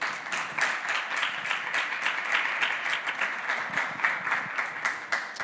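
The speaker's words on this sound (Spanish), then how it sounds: "Os pido un aplauso para ella de bienvenida." A press-conference audience applauds steadily to welcome a guest, a dense, even patter of many hands sustained for several seconds at moderate distance, with no voices over it.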